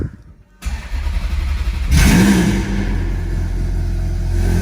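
A sports car engine, exhaust valves closed, cranks and catches with a sharp burst, then settles into a loud, deep, steady idle rumble, heard up close in an enclosed garage.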